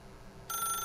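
A telephone begins ringing partway through in the video game The Stanley Parable, a faint electronic trill starting abruptly after quiet room tone and continuing to the end.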